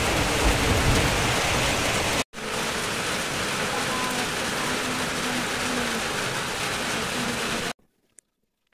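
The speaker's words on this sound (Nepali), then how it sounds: "पानी परेछ" Heavy rain pours steadily at night as a loud, dense hiss. It cuts out briefly once, then resumes and stops abruptly near the end, leaving near silence.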